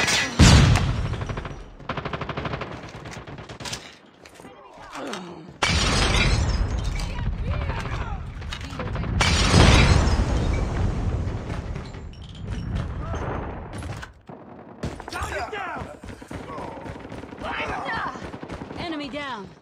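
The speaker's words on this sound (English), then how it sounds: "Watch out! Flashbang!" A flashbang grenade bursts amid dense, rapid gunfire in Call of Duty Mobile on the Suldal Harbor map: loud, close bursts and crackling volleys with sharp swells, under intermittent voice callouts.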